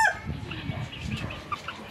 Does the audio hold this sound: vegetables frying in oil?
no